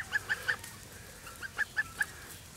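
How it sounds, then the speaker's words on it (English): Young Sebastopol goose making short, clucking honks, about seven quick, fairly close calls in two loose groups over steady low background noise. "Such a big goose now."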